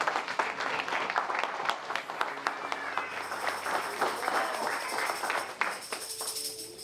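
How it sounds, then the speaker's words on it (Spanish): A church congregation breaks into applause, a loud, uneven clatter of clapping with sharp individual claps standing out and some voices and murmurs mixed in throughout. "Dele un aplauso al Señor ahora."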